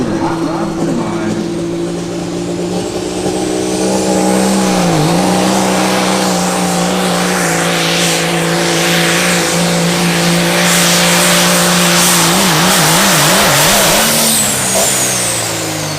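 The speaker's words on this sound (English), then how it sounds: "Fred Sanders, Ravenna, Ohio, the Silver Bullet, number 2 on our Mac Trailer Hot Rod Semis" A hot rod semi truck, the Silver Bullet, roaring through a truck pull at a motorsports park: a loud, sustained engine drone that holds steady, dips briefly, then wavers near the end.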